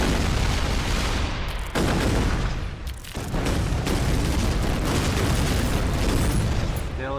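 Tank cannon shots and explosions in the artillery game Shellshock Live, a dense run of loud booming blasts and crackling bursts that fills the whole stretch, with a brief dip partway through.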